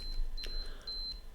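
Minolta 9000 film camera self-timer beeping, a thin high-pitched electronic tone repeating in short pulses over a quiet room with a soft click partway through.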